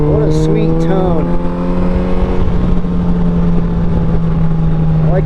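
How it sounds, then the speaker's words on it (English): A Yamaha FJR1300 sport touring motorcycle fitted with a Two Brothers exhaust runs with a steady, deep, throaty drone that sits close and loud throughout, with some engine revving near the start. "And this freaking Two Brothers exhaust. What a sweet tone."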